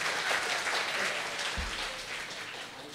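Sustained audience applause for the instrumental musicians at a solo stage performance evening, a dense steady wash of many hands clapping throughout, with one brief low thump partway through.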